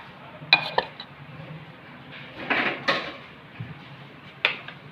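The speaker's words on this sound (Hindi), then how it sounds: "अब हम तमाम अज्जा इसमें डालते हैं। ये हमारी 3 पाव के करीब चिकन," Chicken pieces and washed lentils tipped into a cooking pot for one-pot chicken daleem, giving a few soft clanks and thuds of pot and utensil with scraping in between, near and moderately loud, with no talking.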